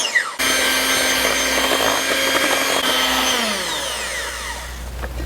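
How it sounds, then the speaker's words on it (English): An electric handheld mixer blending milk and cream runs with a loud, steady whirring whine that starts abruptly and then slowly lowers in pitch and fades a little, with no talking. "my electric handheld mixer."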